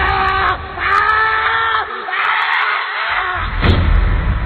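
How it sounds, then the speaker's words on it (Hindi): A loud scream sound effect in a Hindi horror story, a harsh shrieking cry that rises and breaks off in several bursts over a few seconds, with crowd-like yelling texture behind it. "कुछ देर बाद लेखक की एक जोर से चीख सुनाई देती है।"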